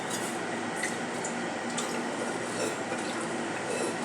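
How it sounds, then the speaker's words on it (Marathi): Water poured into a pot of thin South Indian rasam to adjust its consistency, a steady close trickling and splashing pour lasting a few seconds with no voices. "आपली कन्सिस्टन्सी बॅलन्स होईपर्यंत आपल्याला पाणी घालायचे आहे."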